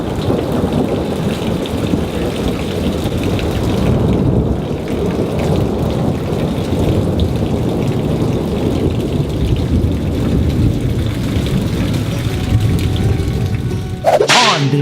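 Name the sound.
thunderstorm with rain and thunder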